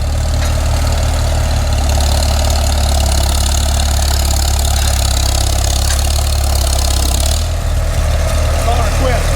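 A Farmall Super M tractor engine runs steadily at a loud, close idle, its low thumping drone continuing the whole time, with a small change in tone near the end as it gets rigged to pull a big stump.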